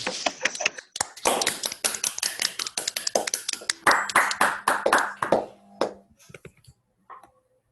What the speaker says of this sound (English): we give Narayan a round of applause